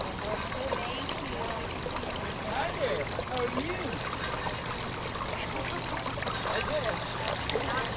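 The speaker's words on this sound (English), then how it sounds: "we got a nice little pond over here" Water trickles and babbles steadily in a small pond nearby in Lakeland, Florida, with faint bird chirps and some background noise mixed in.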